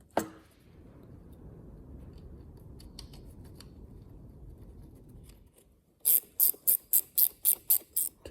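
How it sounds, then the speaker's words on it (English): Bolting a part onto a 50-year-old Holden FC grey motor: a soft rubbing scrape, then a quick series of about nine sharp, evenly spaced ratchet clicks close up, with no talk. "Just a matter of bolting that in now."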